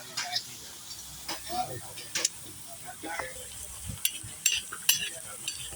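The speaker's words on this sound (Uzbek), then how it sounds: "Piyoz tashladik, piyozimiz qovurilyapti," Onions frying in a pot for Uzbek plov, a steady low sizzle and hiss punctuated by scraping stirs and light metallic clinks, with someone talking over it.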